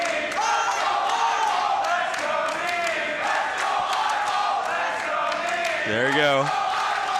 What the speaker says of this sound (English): There's that crowd, yep. Got the clashing, chanting going on.